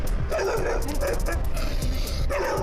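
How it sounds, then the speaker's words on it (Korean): A dog barks hard in the back seat of a car when the rear door is opened, with loud, rapid, repeated yips and barks throughout over a busy background. "갑자기 심하게 짖기 시작하는"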